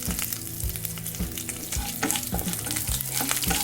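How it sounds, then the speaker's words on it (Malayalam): Cumin seeds heating in a pan while a chicken handi is being made, with a brisk crackling sizzle and stirring clatter over faint tonal music. "3/4 ടീസ്പൂൺ ജീരകം ഒന്ന് ചെറുതായിട്ട് ചൂടാക്കണം"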